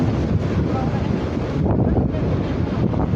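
Strong wind buffets the microphone on the seashore in La Union, Philippines, after a storm. It is a loud, continuous roar with rough surf mixed underneath.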